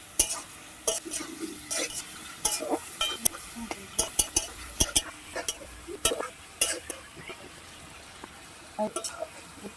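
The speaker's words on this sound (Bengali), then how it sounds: "এই আলুটা দিয়ে মশলার সঙ্গে কষালো দিয়ে" Potatoes are stir-fried with spices in a pan for a fish curry, with a spoon scraping and clinking in a quick, uneven rhythm over a low sizzle.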